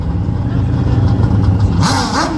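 Speedway race cars roar at the start of a race, loud and dense engine noise building and rising in pitch near the end, with crowd or commentary mixed in.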